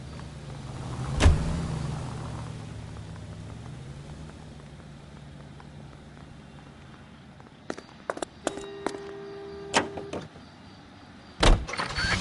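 A car in the detective game L.A. Noire starts with a thump of doors, then a low engine rumble runs steadily, followed later by a string of sharp clicks and clunks near the end, no voices.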